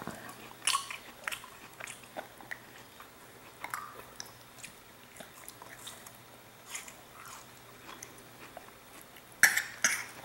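Someone bites into and chews watermelon close by, with repeated wet crunches and squishy mastication sounds in an irregular rhythm and no talking.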